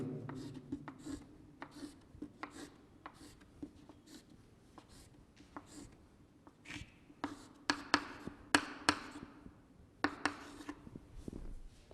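Writing on a board during a chemistry lesson, with a steady series of short, close scratchy strokes and taps, growing busier toward the end, with no talking.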